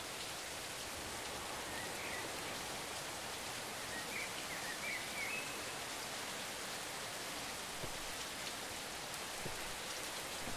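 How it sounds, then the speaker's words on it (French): Steady rain falls in the video game Deer, a dense, even hiss of drops that continues unbroken and fairly quiet throughout, with no talking. "il fait jour, mais il pleut"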